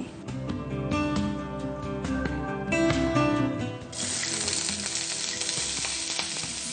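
Oil heats and fries in a pan on a stove, a hissing sizzle that grows brighter and steadier halfway through, layered over a sustained background music bed.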